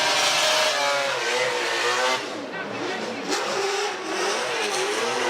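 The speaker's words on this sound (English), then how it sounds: "Let's just sit back and listen to his run, because his car sounds beautiful and it's cool." A NASCAR V8 drift car revs hard during a Formula Drift Japan qualifying run at the Gransnow Okuibuki circuit in Shiga, its engine note loud and continuous, sweeping up and down in pitch through the run.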